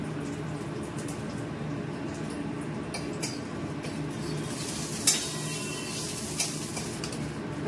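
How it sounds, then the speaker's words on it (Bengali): Dried red chilli and five-spice seeds tempering in hot oil give a soft, steady sizzle, with occasional stirring scrapes and light clinks of a utensil against the pan. "শুকনো লঙ্কা 5 ফোড়ন, এটাই হচ্ছে ফোড়নে দিলাম।"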